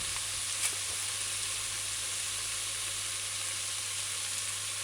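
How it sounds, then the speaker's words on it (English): Beef and broccoli stir-frying in a saucepan makes a loud, continuous sizzle with a single sharp crackle near the start and no talking. "we're doing all of this is stir frying"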